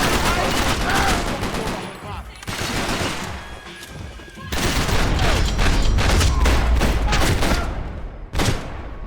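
Gunfire in the video game Max Payne 3, dense bursts of shots and blasts in a chaotic fight, loud and overlapping, with shouting voices mixed into the din.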